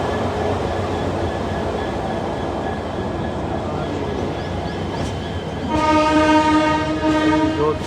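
An Indian Railways passenger train runs on the rails, a steady loud rumble and rattle throughout, with a sustained horn-like harmonic blast joining near the end.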